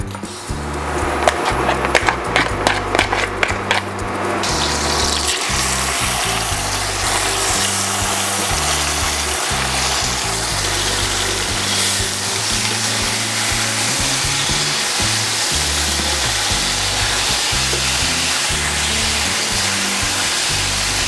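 Chicken steak frying in butter and olive oil in a pan, a loud, steady sizzle and crackle that builds after a few scattered pops and then holds constant.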